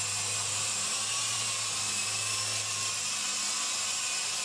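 An MJX RC T641C toy camera helicopter in flight, a continuous high-pitched whining buzz of small rotors and motor, steady and close, with no voices.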